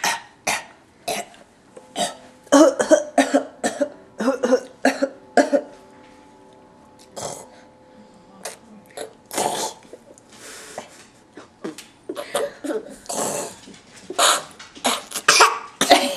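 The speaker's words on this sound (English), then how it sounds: "Do you fake cough?" A child's short coughs come in scattered bursts, some clustered, with brief pauses and faint background hum between them.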